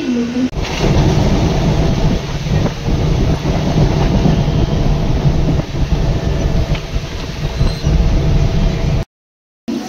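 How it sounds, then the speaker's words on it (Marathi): A loud train rumbles and clatters continuously along the tracks as it arrives at a station platform, filling the clip before cutting off abruptly near the end. "आता 4 नंबरवरची ट्रेन आली तिकडे एवढ्या जवळची."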